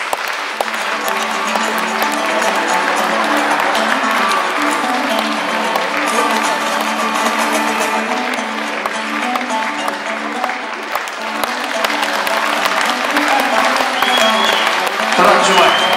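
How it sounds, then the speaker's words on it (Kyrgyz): A crowd claps at length to welcome poet Turat Zhumaev at an aitysh, a Kyrgyz improvised poetry contest. The sustained loud applause fills the hall, with background voices and music-like tones beneath. "Келиңиздер чындап кол чабабыз"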